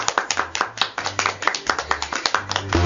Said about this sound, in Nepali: सबैजना बडा खुसी भएर ताली पिट्नु भएको